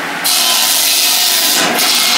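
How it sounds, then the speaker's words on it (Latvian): An old hand saw cuts through firewood, its loud, continuous rasping strokes close up, with a brief change in stroke near the end. "Lēnām zāģē."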